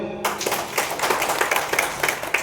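An audience at a product knowledge seminar bursts into clapping after a brief tone, with a dense run of sharp hand claps that continues evenly at fairly close range.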